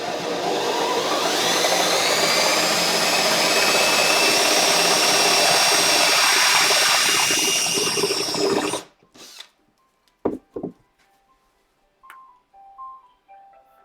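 A power drill bores a 25mm hole in wood, a loud, steady whine that runs for about nine seconds and then cuts off. A few faint knocks and handling sounds follow.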